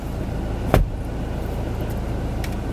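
Idling and passing cars in a busy shop car park, a steady close motor hum broken by one sharp thump like a door shutting early on.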